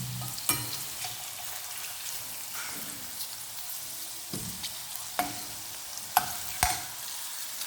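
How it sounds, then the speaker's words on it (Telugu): Okra sizzling as it fries in a pan, a steady crackle broken by sharp taps and scrapes from stirring, close and moderately loud with no voices. "చూడండి, ఇలా ఫ్రై అయితే సరిపోతుంది."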